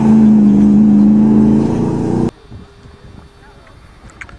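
Street legal new cars and trucks racing in a farm field, one engine droning loud and close under strain, then cutting off abruptly to leave a quiet outdoor background.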